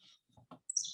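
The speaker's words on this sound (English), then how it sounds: "Yep, it's a Henzo Sparrow." A Henslow's sparrow in grassland gives a very short song, a few soft low notes followed by a sharp high buzzy chirp, clear and alone in quiet surroundings.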